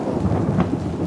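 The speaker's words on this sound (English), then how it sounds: "That's a big thunder." Thunder rolling during a rainstorm, a loud, deep continuous rumble filling the whole moment with a slight swell midway, heavy rain noise blended underneath.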